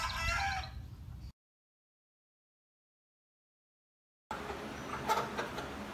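Seven-week-old Cornish Cross chickens cluck and a rooster crows nearby, the sound cutting out into silence for a few seconds before the flock noise resumes.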